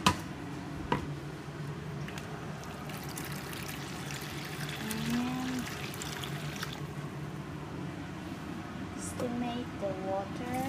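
Water poured into a rice cooker pot holding three cups of washed rice, a soft trickling stream running fairly quietly for several seconds in a kitchen, with a few clinks and a faint voice in the background.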